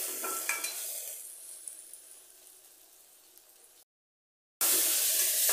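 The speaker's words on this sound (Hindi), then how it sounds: "कुछ सेकेंड इसको अच्छे से मिलाना है मसाला को।" Spices, including chilli powder, are stirred into a sizzling eggplant and potato curry made without onion or garlic in a frying pan. The hissing fry fades, cuts briefly to silence, then returns loud and steady.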